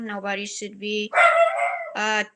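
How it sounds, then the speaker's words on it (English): Pet dogs yip and bark repeatedly under and between a woman's speech during a livestream, with the sharp barks close and fairly loud. "I'm sorry about my dogs"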